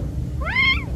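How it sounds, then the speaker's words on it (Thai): A single short, clear meow from a kitten trapped in a narrow gap in a wall during a rescue through a removed roof, rising and falling over a low background rumble. "คีบแมวขึ้นมาจากร่องนะครับ"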